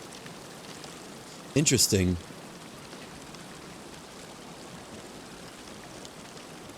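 A loud waterfall in the video game The Long Dark gives a constant broadband rush of falling water, with a short spoken remark briefly over it.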